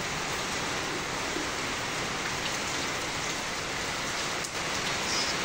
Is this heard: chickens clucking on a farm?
no